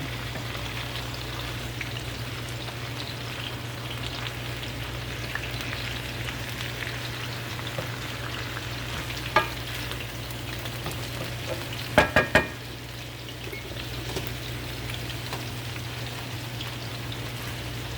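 Cheesy chicken fritters fry in a pan with a continuous, even sizzle and crackle, close and moderately loud. A few sharp utensil clicks and scrapes sound near the middle as the fritters are turned.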